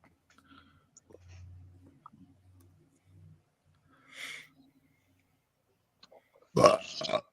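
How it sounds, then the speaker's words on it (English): A loud, close burp erupts near the end during a live sports betting stream, after scattered quiet sounds and a brief hiss. "We need to stop burping too in the show."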